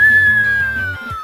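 A high-pitched, whistle-like tone plays each time a page turns in the Mario Party Superstars video game. It holds steady and slowly falls in pitch above low rhythmic game music for about a second, loud and close.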